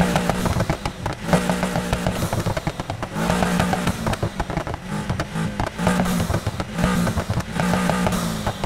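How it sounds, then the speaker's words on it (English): Car with a custom muffler exhaust revving in Need for Speed Heat, a loud continuous engine roar with pulsing throttle rises and crackles, steady and close with no talking. "just a quick rundown, like the exhaust sound, like that."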